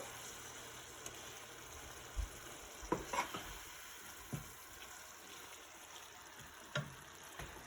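Minced meat with garlic frying in a pan, a faint, low hiss of sizzling with occasional soft scrapes and knocks of a spoon stirring, heard alone without talk.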